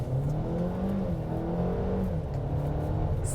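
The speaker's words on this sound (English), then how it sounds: "I really like the sound of this engine. If we could just stop and accelerate." A 2021 Mercedes-Benz GLA engine accelerating, a steady, buzzy engine drone that holds constant and fairly loud throughout with no talk over it.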